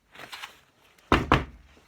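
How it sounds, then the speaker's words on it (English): Two loud, close knocks land on a door in quick succession, coming after a softer stretch of shuffling noise. "I knock loudly and wait."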